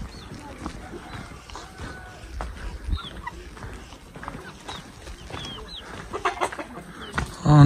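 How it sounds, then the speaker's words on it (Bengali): A large rooster clucks in a small Mro hill village in Bandarban, its calls scattered over busy outdoor ambience with birds, footsteps and nearby voices. "কত বিশাল সাইজের মোরগ।"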